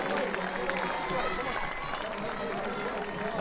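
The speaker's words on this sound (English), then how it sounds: "applause all around" Applause from the crowd at a women's professional soccer match, a steady, dense wash of clapping and crowd noise under a commentator's talk.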